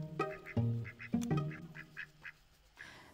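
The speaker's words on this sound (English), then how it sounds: "Fern is an Indian runner duck" An Indian Runner duck quacks close by, loud repeated quacks arriving in a quick irregular series of about six or seven calls, then fading out.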